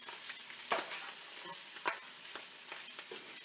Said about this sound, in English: And we're just going to flip our pierogies.